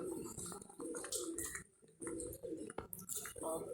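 Pigeons cooing close by, several soft throaty coos rising and falling with light chirps, fairly quiet, with a brief lull partway through.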